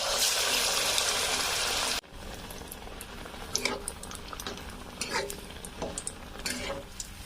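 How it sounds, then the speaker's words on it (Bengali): Besan-battered leaf fritters drop into hot oil in a kadai: a loud hiss for two seconds, then quieter bubbling with scattered crackles and pops, no talking. "গরম তেলে ছেড়ে দিব"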